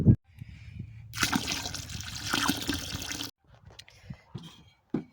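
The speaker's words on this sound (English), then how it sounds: "So I just added water." Water is poured into a bucket for an off-grid chick-raising setup, a steady splashing gush lasting about two seconds, followed by quieter sloshing and handling noises.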